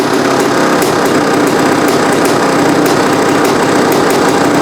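Honda CR500 dirt bike engine fitted with a $50 eBay carburetor, idling loudly and close with a rapid, even two-stroke putter and steady ticking pulses, unbroken and alone.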